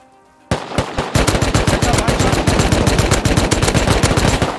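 AK assault rifle fire in the survival game Rust: after a brief quiet moment, a loud, close, sustained automatic burst of rapid, evenly spaced shots runs without pause.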